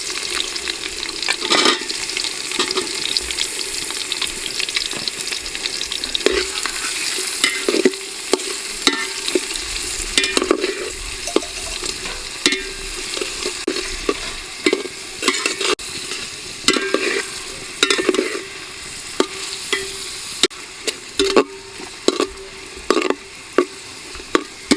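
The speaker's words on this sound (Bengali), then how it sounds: "পেঁয়াজ একটু ভাজা হয়ে গেছে" Onions fry in oil for a potato curry, a close, constant sizzle punctuated by repeated sharp spatula scrapes and knocks against the pan as they are stirred.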